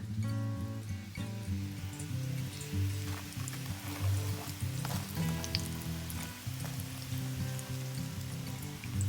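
Breaded giant puffball mushroom slices fry in a pan, giving a steady, fairly loud sizzle and crackle that continues without a break and with no talking over it.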